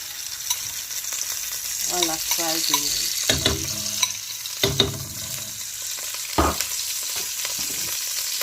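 Tomato fries in a pan for local rice with basil and ogiri, giving a constant close sizzle broken by several bursts of stirring and scraping.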